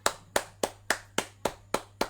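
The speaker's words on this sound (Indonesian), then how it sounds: "tepuk tangan" Eight crisp, evenly spaced claps ring out in a steady rhythm to honour a prize winner at a Bible quiz contest; moderately quiet and near, with no voices.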